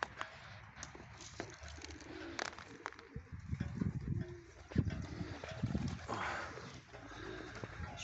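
Several pigeons coo softly and repeatedly inside a dovecote beneath an aviary, with rustling, fluttering and scattered knocks around them; no one speaks.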